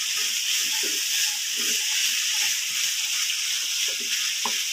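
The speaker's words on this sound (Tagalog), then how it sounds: "halu-haluin natin hanggang sa magkahalo lahat" Fried potatoes with canned beef sizzle loudly in a hot pan, a steady bright hiss broken by soft scraping and clinking as the mixture is stirred.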